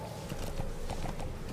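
Horse hooves clip-clopping in the video game Metal Gear Solid V, a soft irregular run of thuds under a dense game soundscape, with a faint voice in the background.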